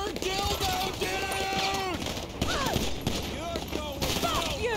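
Bursts of gunfire crackle in GTA Online during the Acid Lab mission, rapid sharp shots scattered through a busy game mix with whistling tonal effects and people talking over it.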